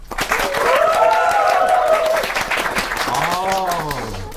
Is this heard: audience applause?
yes